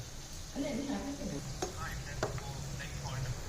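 Muthiya shallow frying in oil over low heat, a soft continuous sizzle with a few scraping stirs and light clinks of a utensil, faint and close.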